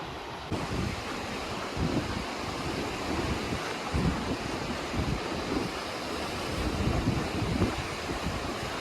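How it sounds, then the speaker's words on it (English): A gushing river swollen with snowmelt on the Pacific Crest Trail, normally dry, roars as a steady broadband rush with wind buffeting the microphone throughout, loud and continuous with no voices. "This absolutely gushing river is usually dry in most snow years."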